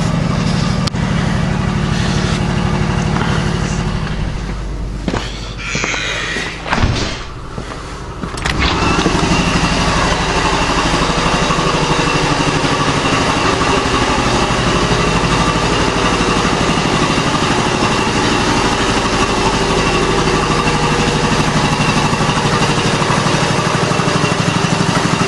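A Quincy QR-325 air compressor runs in a workshop, a loud, steady mechanical drone that dips briefly partway through before settling back into a constant hum.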